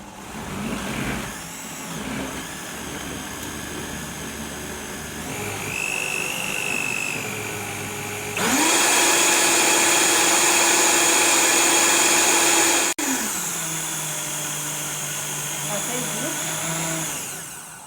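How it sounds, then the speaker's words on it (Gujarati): A kitchen mixer grinder blending mint and coriander leaves with water for pani puri water, a long loud whirring motor that shifts pitch and surges louder midway before easing back. "પહેલા ફોદીનો ને ધાણાને મશીનમાં કરી નાખવાનું।"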